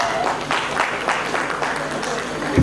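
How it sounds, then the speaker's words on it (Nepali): An audience applauds at a joint Rotary club installation ceremony, a dense wash of clapping hands filling the room, with a voice speaking over it. "साथीहरु ताली त बजाउँ।"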